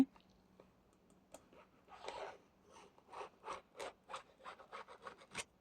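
A marking tool rasps across fabric during bag sewing in a quiet room, as a series of short, soft scratchy strokes that fall into a steady rhythm toward the end.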